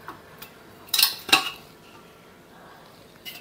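Raw peanuts in their shells washed in water in a kitchen bowl, with a couple of sharp clattering, rattling bursts as the shells knock against the dish, otherwise quiet.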